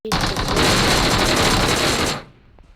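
Gunfire in the battle-royale game PUBG Mobile, a loud, close, unbroken rattle of rapid shots lasting about two seconds that cuts off abruptly into near silence, with no talking.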